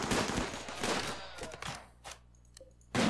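Automated turrets fire in Rimworld, a dense rattling burst of gunfire that thins into a few scattered shots and thuds, then one last loud burst.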